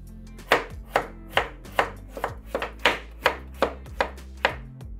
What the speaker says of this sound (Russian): Очищенный сырой картофель нарезаем пластинками.